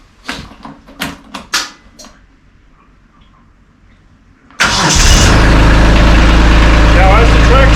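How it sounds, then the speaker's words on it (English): A Kubota LX2610 compact tractor sits indoors in near-freezing cold, with a few knocks and clunks before the engine fires. It then settles into a loud, steady diesel idle that fills the space. "So I start the tractor up,"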